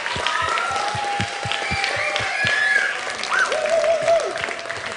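Audience applause for a third-place finalist at the A1 Esports League Season 2 Project Cars 2 finals, steady broadband clapping with distinct hand claps and some cheering, with tonal music or whistles running over it.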